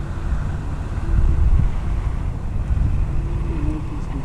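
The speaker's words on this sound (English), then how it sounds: "40 degrees, 20 mile an hour wind blowing all over." Strong, cold 20 mph wind on an outdoor concrete pour site in northeast Pennsylvania, a steady loud low rumble of gusts buffeting the microphone, swelling briefly, with no talking.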